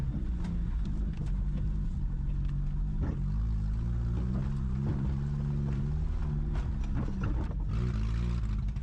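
A Ford Taunus police car, rescued from an icy lake, running with a damaged exhaust, a steady loud rumbling drone with throbbing low tones and occasional rattling clicks.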